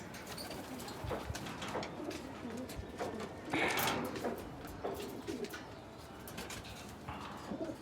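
Racing pigeons kept for long-distance races coo softly in a loft, with ongoing bird activity and a few sharper calls, while people talk faintly in the background.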